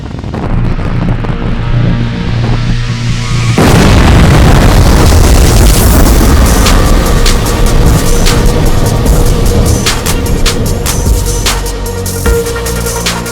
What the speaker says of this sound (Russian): В результате удара дрона произошла детонация снаряда, и взрывом был уничтожен грузовик и САУ «Краб».